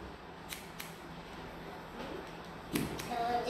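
Scissors snip hair during a close haircut, a few crisp, quiet cuts spaced apart over a low room hiss, with no talking.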